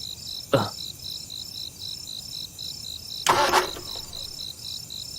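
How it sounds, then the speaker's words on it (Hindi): A car's starter cranks briefly and fails to catch, two short bursts separated by a pause, set against a steady night chorus of crickets chirping in a rhythmic, high pulsing pattern. "थोड़ा गाड़ी स्टार्ट करो"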